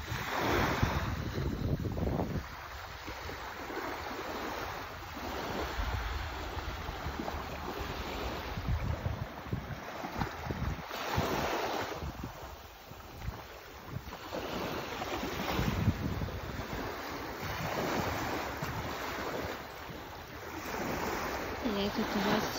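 Ocean waves wash onto a sandy beach in a steady, continuous surf, with gusts of wind buffeting the microphone and the swells rising and falling in loudness.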